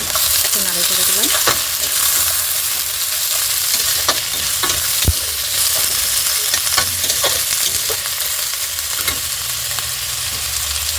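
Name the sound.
stirring sidal chutney with chilli and garlic in pan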